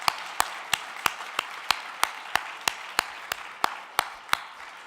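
Slow, evenly spaced single claps ring out over a soft crowd murmur at a sustainable finance and energy innovation conference, about fifteen distinct claps in a steady rhythm.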